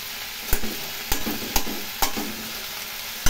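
A Bengali-style cabbage curry with grated ginger sizzles softly on a low flame while a spoon scrapes the pan in steady strokes about every half second, close and alone.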